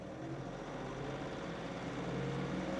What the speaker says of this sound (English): So she's starting up. Normally that's just at an idle, so we're gonna idle it up.